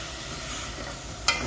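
Meat browns in a pan with a steady, even sizzle, ending in two brief utensil scrapes.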